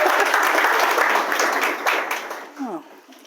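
Wedding guests at a civil marriage ceremony applaud warmly, the clapping loud at first and then thinning and fading, while a voice starts speaking over the tail end.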